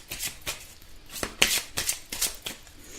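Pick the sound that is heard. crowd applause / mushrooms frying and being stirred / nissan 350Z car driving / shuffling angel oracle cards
shuffling angel oracle cards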